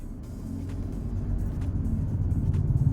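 A vehicle engine rumbles steadily at low pitch and grows gradually louder, as if pulling away and driving off, heard alone with no talk.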